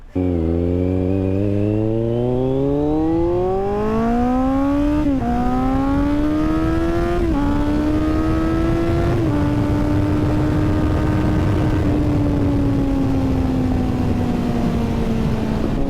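A 2024 Kawasaki Z900 motorcycle engine running steadily and loudly up close, its pitch climbing through several revs before settling into a sustained drone.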